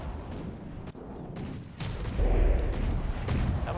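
Gunfire sniping a ship in a naval battle video game, with a steady rumble of distant booms and cannon blasts that swells louder partway through, with no talking.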